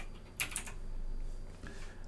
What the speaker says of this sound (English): we're going to type in here Skype